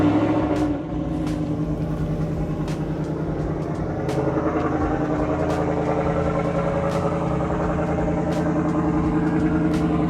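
A warm Ford F-150 pickup truck idling after start-up, a steady low exhaust rumble with a slight lope, close and loud, with a brief dip near the start and faint clicks over it.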